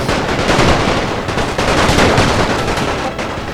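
Dense, continuous battlefield gunfire and cannon fire from a Napoleonic-era battle video game set at Stuttgart, a steady loud rattle of volleys with no pauses and no talking.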